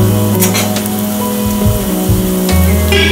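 Ragi flour snacks deep-fry in a pan of oil, giving a loud, close, steady sizzle with low bubbling and a few light scrapes as the pieces are turned.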